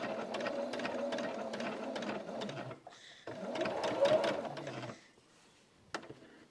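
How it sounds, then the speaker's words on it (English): A home sewing machine stitches quilt block pieces at a short stitch length in two steady runs of close whirring with a brief pause between, then stops. "I'm sewing just a hair next to the line."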